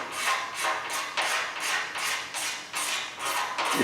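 Scraping a run out of cured automotive clearcoat, a series of about eight even, rhythmic rasping strokes, close and fairly loud, each stroke a short breathy scrape with no talk.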